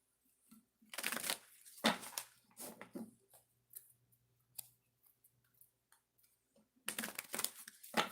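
Oracle cards are shuffled by hand at close range in quick bursts of riffling and rustling that stop for a quiet stretch and then start again, with a faint low hum under it and no talking.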